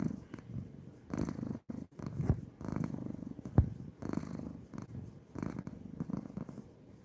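A cat purring up close while lying in a makeshift bed, a soft rhythmic low rumble pulsing with each breath, steady and intimate with brief pauses between cycles.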